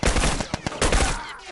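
Gunfire in the video game The Last of Us, a quick cluster of sharp shots with echoing tails over about a second and a half, close and loud.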